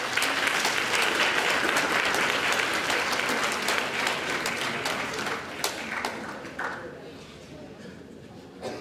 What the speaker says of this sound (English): let's give a round of applause to Manari Satati